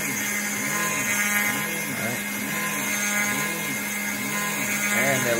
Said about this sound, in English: performing a counterboard operation on that hole